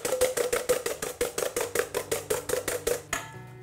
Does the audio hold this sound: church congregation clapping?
no